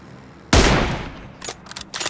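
A single sharp sniper rifle shot in a PUBG or Fortnite match, loud and close, with a long decaying tail, followed by a few smaller impact-like bursts.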